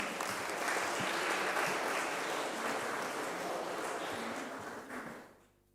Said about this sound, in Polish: Prosimy chociaż o oklaski.